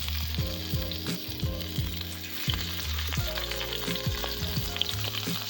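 Shrimp hit hot avocado oil in a pan over medium-high heat, giving a steady, close sizzle that runs the whole way through over a soft tonal background.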